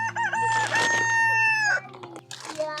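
On a homestead, a rooster gives one long, loud crow close by while hens cluck around it, and a few more short calls trail off after the crow.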